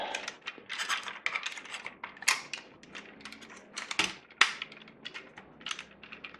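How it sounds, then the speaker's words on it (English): Plastic panels of a Transformers Power of the Primes Rodimus Prime toy fold and snap into their locking tabs, giving a dense run of close, sharp plastic clicks and rattles with a few louder snaps, no talking. "there are tabs for them to lock into. And you'll hear that nice audible click"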